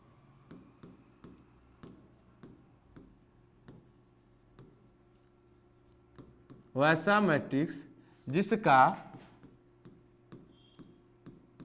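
Chalk or marker taps and strokes on a classroom board during a Class 12 matrix maths lesson, soft and rhythmic, broken by a teacher speaking briefly in the middle.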